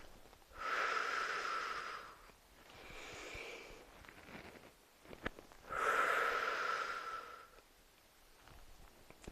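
Slow, deep breaths during a full-body exercise session: two long, airy breaths, each lasting about two seconds, with a softer breath between them, close and alone.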